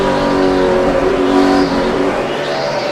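NASCAR stock cars racing at Richmond in 2008, three cars battling for fifth place, their engines roaring loud and continuous at close range with a slight rise and fall in pitch.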